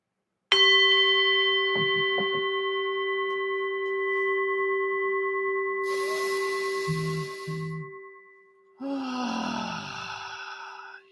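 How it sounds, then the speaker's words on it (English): A bell is struck once and rings out loud and long with a bright sustained tone that slowly decays, followed by breathy sighing sounds near the end. "Bob, ring the bell."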